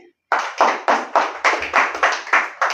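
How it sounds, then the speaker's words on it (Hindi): Students in a classroom during a Hindi-to-English translation lesson clap about nine times in an even rhythm, each clap sharp, close and loud against a quiet room. "अरे बजाओ ताली"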